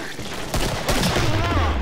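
Gunfire from a Killing Floor co-op match: loud, close bursts of shots over a steady rumble, with the heaviest volley starting about halfway through.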